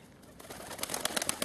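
Pigeons near a dovecote give a quick series of soft coos and rustling sounds that grow louder toward the end of the brief moment.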